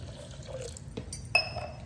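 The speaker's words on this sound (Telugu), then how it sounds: "ఇప్పుడు 1 గ్లాస్ వాటర్ అయితే పోస్తున్నానండి." Water poured from a glass into a blender jar while cooking, a short splash and trickle with a sharper splashing burst near the end, close and moderately loud, with no talking.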